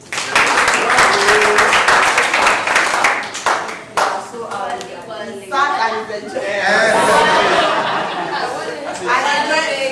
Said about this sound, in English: Clap for one lady.